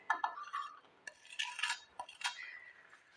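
A fried biscuit mixture is tipped into thickened milk in a pot and stirred with a metal spoon. Close, quiet scrapes and clinks come in uneven bursts against a near-silent background.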